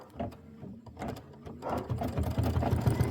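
An embroidery machine stitches down fabric fringe in a steady, fast mechanical patter that grows louder and denser toward the end, with no talking.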